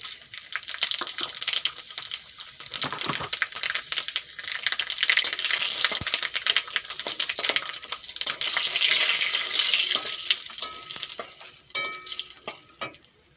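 Bay leaf, dried red chilli and panch phoron sizzle loudly in hot mustard oil, a dense continuous crackling hiss with sharp pops and spatters all the way through, close up and with no voices.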